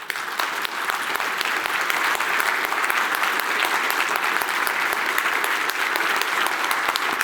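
An audience at a cybersecurity talk on Ukraine claps after a speech, a dense, steady round of applause from a large crowd lasting throughout, loud and continuous.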